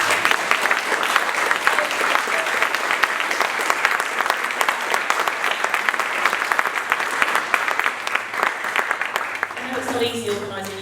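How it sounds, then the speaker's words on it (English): A loud, sustained round of audience applause at a student welcome event in Vienna, with dense clapping for about ten seconds before it thins out and voices start near the end. "to invite you all to give a round of applause to Claudia for all of her efforts."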